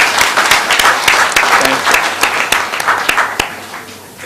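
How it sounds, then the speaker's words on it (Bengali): Loud applause from a workshop audience at a social business design lab, with dense clapping and a few sharp, distinct claps standing out, then thinning toward the end as some crowd murmur mixes in. "আমরা তার জন্য একটা জোরে হাততালি দিই"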